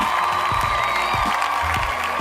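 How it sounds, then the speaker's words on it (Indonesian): Studio audience at an Indonesian quiz show, Cerdas Cermat EPTV, clapping and cheering in a steady, dense wash, with a few whoops rising above the sustained applause at close range. "kasih dong tepuk tangannya dulu"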